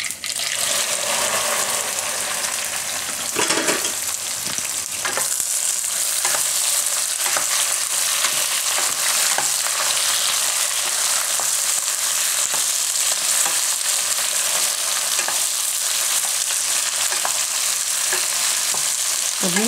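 Okra (bhindi) fries in hot oil with cumin, sizzling loudly and steadily close up for a long stretch while a spoon stirs and scrapes the pan now and then.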